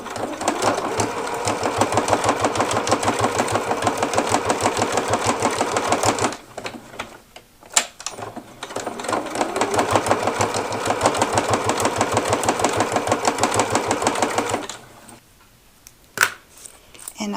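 Sewing machine tacking down a folded-over fabric edge on a strap, running in two long steady bursts of rapid stitching separated by a short pause, close and loud, with a few brief handling clicks at the end.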